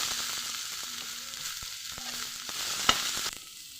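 Chopped small shallots sautéing in a kadai with oil, a steady bright sizzle broken by a few stirring clicks before it quiets near the end.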